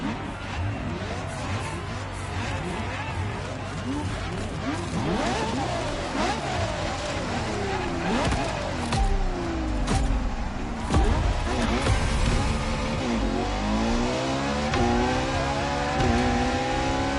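Ferrari LaFerrari hybrid supercar, built at Maranello in 2013, with its engine revving loud and close, pitch rising and falling in repeated sweeps over a steady background.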